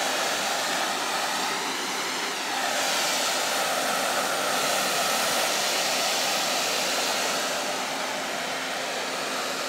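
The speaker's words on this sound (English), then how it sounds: "So I'm just going to blow the hair away a little bit like this." A hair dryer blows continuously and loudly on short hair set with rollers, a steady close rush of air with slight shifts as it moves.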